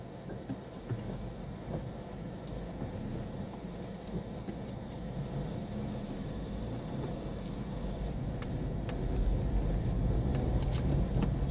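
Steady low road rumble and engine drone of a car cruising on a Saturday-morning drive from Valenzuela to Bocaue, Bulacan, heard from inside the cabin, continuous and filling the whole stretch, growing a little louder near the end.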